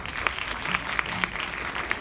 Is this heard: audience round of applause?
yes